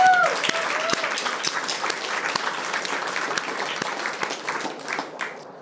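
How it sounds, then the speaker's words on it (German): A short burst of applause from a small group, steady clapping that gradually thins out, with a voice briefly audible at the start. "Kleiner Applaus"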